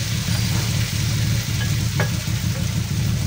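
Tofu frying in a pan for pork tofu sisig, a loud, close, continuous sizzle with steady crackling and a faint clink midway, and no talk.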